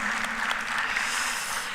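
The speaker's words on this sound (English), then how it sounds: "That deserves a round of applause, doesn't it?" A conference audience at a renewable energy expo gives a short burst of steady applause, a dense wash of many hands clapping at moderate loudness.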